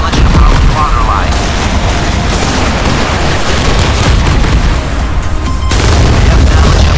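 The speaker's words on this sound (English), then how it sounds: "Missile is away. Target hit. We have damage above the waterline." Missile impact on a warship in the naval combat game Modern Warships, heard as loud, dense booming explosion noise that fills the whole stretch with heavy rumble, while a voice comes through over the blasts.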